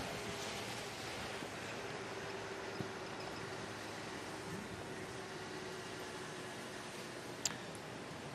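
Breezy morning wind sweeps over the open bush of a Sabi Sand safari at sunrise, a steady soft broadband rush with a faint low hum beneath and one brief tick near the end, distant and even throughout.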